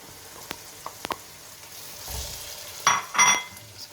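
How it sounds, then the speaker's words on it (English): Dry spices stirred into hot oil in a pan for a lamb curry with potato, soft sizzling with light scrapes and a few clinks of a utensil against the pan, close and quiet, then two louder bursts of stirring at the end. "Just give that a quick stir into the oil."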